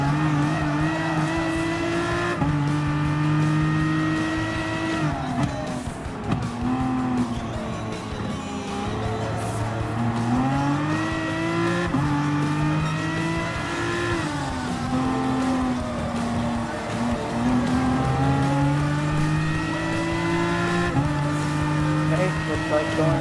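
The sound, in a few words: Aston Martin and Nissan GT-R racing in Gran Turismo Sport video game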